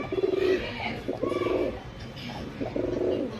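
Pigeons of an old lineage, pairs kept for sale, coo close by in repeated soft throaty phrases. Three distinct cooing bouts rise and fall over a few seconds.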